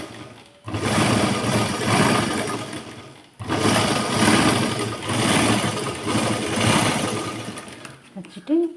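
A sewing machine stitches a blouse joint in two steady runs of fast mechanical whirring, each stopping abruptly, with a clicking handling noise at the very end.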